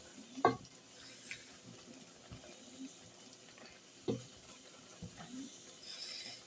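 A spoon stirs drained sweet corn into cottage pie filling in a pan, giving soft scraping and clacking strokes with a few sharp knocks over a low, quiet background sizzle.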